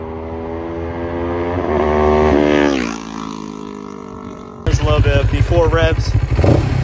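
A CFMoto CL-X 700 motorcycle engine fitted with a Fire Torch cat revs up loudly and drops back, then blips again in rough bursts, with a voice speaking over it.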